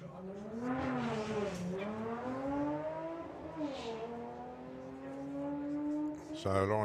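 A Volkswagen Golf GTI drag racing at Santa Pod during a VWDRC qualifying round, its engine note rising steadily through the gears, loud and sustained over a commentator's voice.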